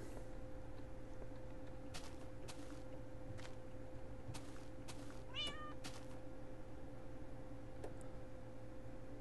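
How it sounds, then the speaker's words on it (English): A single cat meows briefly in a video game, a short quavering cry over a constant low electronic hum, with a few faint clicks scattered before and after. "that's a ninja cat right there"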